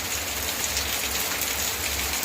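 Heavy rain pours steadily onto surfaces, a dense continuous hiss with close, even intensity and no voices throughout.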